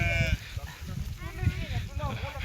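A sheep held by hand for milking at a mountain farm bleats a few times, faint under steady nearby talking.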